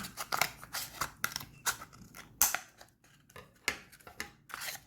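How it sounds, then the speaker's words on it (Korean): Scissors snip through crochet yarn in a series of close, quiet, crisp cuts, each a short sharp crunch with small pauses between, heard alone in a quiet room. "이 정도가 딱 반절 같은데 싶은 위치에 이렇게 잘라주세요"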